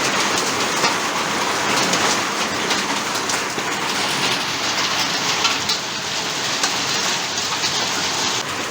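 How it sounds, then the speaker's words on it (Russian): Heavy hail mixed with strong rain pounding outdoors in a village on a summer day, a dense, steady roar of impacts close by throughout with no voices. "Вот какой град в Стерлибакове сегодня."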